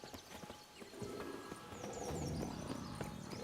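Horse hooves clip-clopping in The Witcher 3: Wild Hunt, a steady run of close thuds that grows louder and busier halfway through, with a brief whinny against a faint game backdrop.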